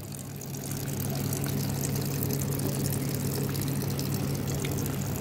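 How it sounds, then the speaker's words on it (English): Water from a small terrarium waterfall splashes and trickles steadily and up close, a continuous wash of sound with a low pump-like hum beneath it. "So we've got our waterfall."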